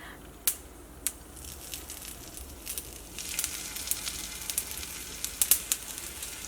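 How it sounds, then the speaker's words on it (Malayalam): Mustard seeds spluttering and popping in hot oil in a pan, a steady faint sizzle broken by sharp crackling pops, a few at first and then more frequent, with no talk. "അപ്പോൾ കടുക് പൊട്ടിയിട്ടുണ്ട്"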